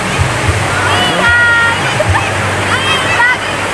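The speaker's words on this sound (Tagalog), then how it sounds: "Ganda ng agos ng tubig oh." River water rushes and splashes continuously at a swimming spot with cottages, loud and close, while people talk and shout over the steady flow.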